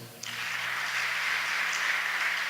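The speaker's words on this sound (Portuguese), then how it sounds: "Quem entendeu, um grande aplauso ao Senhor." A church congregation breaks into applause, a broad, steady wash of many hands clapping that rises quickly and holds evenly, moderately distant, with a faint hum underneath.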